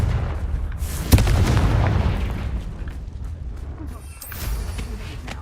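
A Confringo blasting spell goes off in Hogwarts Legacy: one sharp, loud boom followed by a dense rumbling roar that fades slowly over several seconds, with a smaller swell of impact noise near the end.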